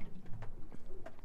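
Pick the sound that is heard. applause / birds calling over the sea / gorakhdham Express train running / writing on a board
birds calling over the sea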